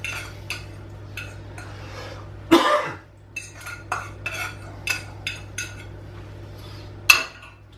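A spoon clinks and scrapes against a bowl while a green spanakopita filling is mixed, a series of close sharp taps spaced about once a second with one louder clatter partway through and soft squelchy stirring between.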